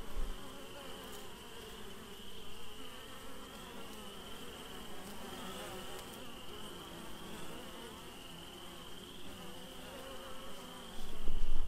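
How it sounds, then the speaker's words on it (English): Many honeybees buzz continuously in a dense, droning hum, close and steady, with a louder swell near the end. "One of the bees just smacked me on the head."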